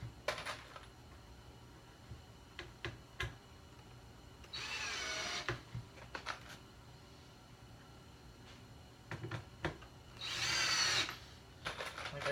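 A power drill drives screws into wood for a bar stool in two short whirring bursts, close and loud, with clicks and clatter of handled parts between them.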